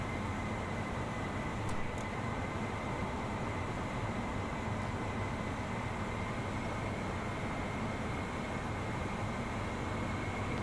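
F-14 Tomcat jet engines roar in a flight video game as a steady, dense wall of broadband noise that stays loud and unbroken throughout, with no voices.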